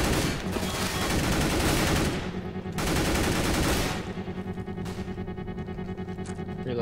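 Rapid, loud automatic gunfire from a CS:GO match fills the first few seconds in dense bursts, then breaks into a shorter volley and trailing single shots.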